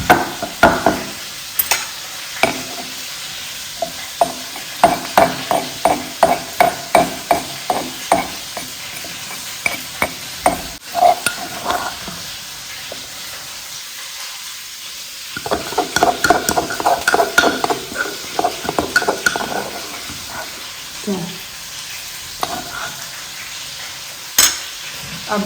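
Chicken curry stir-fried in a pan for a village-style dish, with loud rhythmic scraping and clattering of a spoon against the pan over steady sizzling, pausing briefly midway before vigorous stirring resumes.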